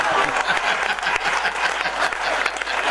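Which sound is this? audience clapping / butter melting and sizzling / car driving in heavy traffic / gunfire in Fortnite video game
audience clapping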